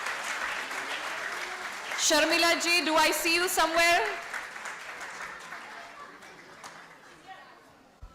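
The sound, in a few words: audience applause for the decorating team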